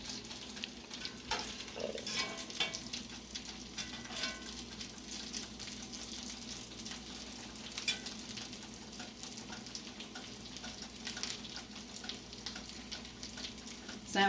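Salmon patties fry in a pan, a steady close sizzle and crackle with occasional scrapes and stirring sounds throughout, no talking.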